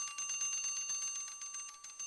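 An electric bell rings continuously inside a bell jar as the air is pumped out, its rapid metallic strikes repeating steadily and fairly faint, with no voices.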